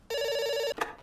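A single electronic telephone ring sounds in the game Dr. Langeskov, The Tiger, and The Terribly Cursed Emerald, one steady buzzy tone lasting over half a second, followed by a short soft clunk.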